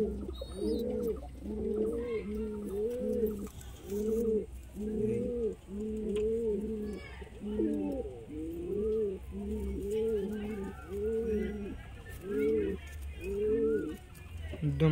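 Long-flying pigeons coo in repeated rhythmic phrases, close and clear, one bout following another over a low steady background hum.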